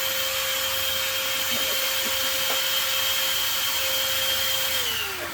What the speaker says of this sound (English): turn my vacuum off